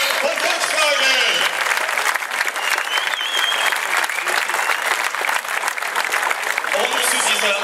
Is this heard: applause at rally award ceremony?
yes